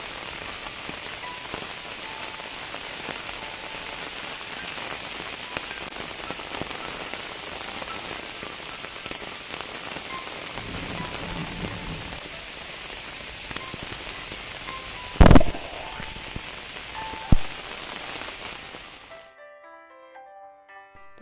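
Steady Friday rain pours down for about nineteen seconds as an even, dense hiss, with a brief sharp knock near the end before it cuts to near silence.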